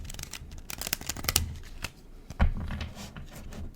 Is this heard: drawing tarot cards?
yes